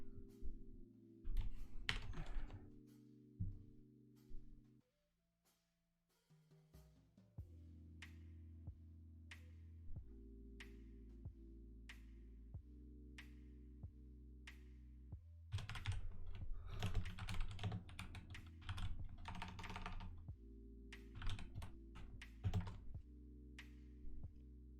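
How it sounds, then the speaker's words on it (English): Clattering of a teammate typing on a computer keyboard. Bursts of key clicks sit over a steady low background hum, with a brief quiet gap partway through and a busier flurry of typing toward the end. "my teammate is typing"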